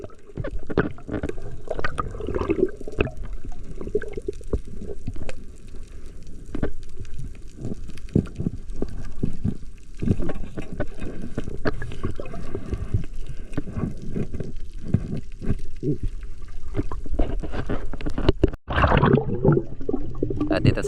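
Strongly churning sea water heard underwater on a dive among cracked rocks, a continuous dense rush and gurgle with muffled thumps, loud and steady throughout with a brief dip near the end.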